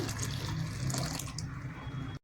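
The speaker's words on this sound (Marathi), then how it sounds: "गरम पाणी," Hot water pours steadily into mashed dal cooking in a pot with an oil tempering of curry leaves, crushed garlic, cumin, asafoetida and turmeric, a continuous splashing rush that stops abruptly.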